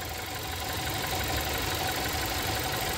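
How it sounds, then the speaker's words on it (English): A car engine idles during a fuel pressure sensor test, a steady, close, continuous hum with no talk. "Our engine is running now"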